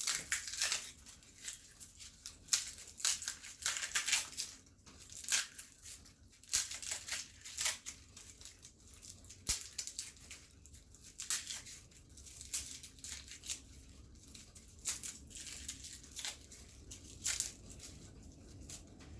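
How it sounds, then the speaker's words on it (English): Papery garlic skins peeled off by hand, making close, quiet crinkling and tearing rustles in irregular bursts throughout, with no talk. "For the garlic, go ahead and peel the garlic."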